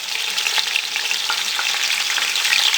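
Chicken for Kabuli pulao fries in a pan as spices go in, giving a loud, close, continuous sizzle with brief scraping stirs and small crackles.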